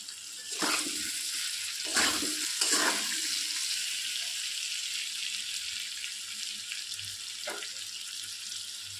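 Potatoes frying in hot oil in a home kitchen, a steady soft sizzle with a few brief louder bursts as pieces are moved, close and quiet, with no talk.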